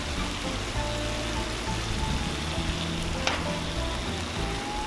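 Korean BBQ chicken wings sizzle and fry on a Cuisinart 360° griddle outdoors, a steady close crackling hiss that continues throughout with no talk.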